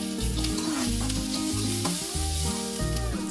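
Chopped onions sautéing in a pan for stuffed bread egg toast, a steady close sizzle with a low rhythmic throb underneath, continuous and loud with no talking.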